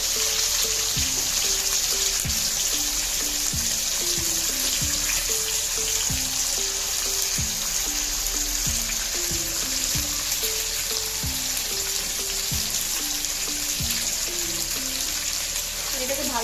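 Cubed onion and capsicum sauté in a hot pan, giving a steady, dense sizzle throughout while a voice talks over it and faint regular tapping recurs in the background.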